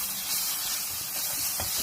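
Grated tomato hitting a pan of frying onion-spice masala for a paneer curry gives a steady, close hiss of sizzling and steam that runs for about two seconds with no voices.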